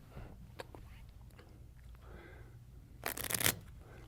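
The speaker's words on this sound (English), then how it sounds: "give that deck a shuffle" A brief burst of riffled shuffling of a deck of playing cards near the end, louder than the faint rustling and handling noises before it.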